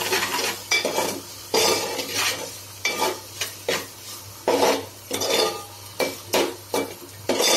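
A spoon scrapes and clatters against a pan while mushroom curry is stirred, in uneven bursts of close metallic strokes over a faint sizzle.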